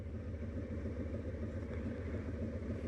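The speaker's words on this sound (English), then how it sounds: "That's why we got loud exhaust, for that lane split right there." Motorcycle fitted with a Vance & Hines stainless 2:1 upsweep exhaust cruising in traffic, a steady deep rumbling engine drone heard close and continuous without speech.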